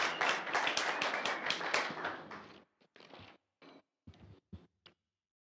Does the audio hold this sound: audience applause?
yes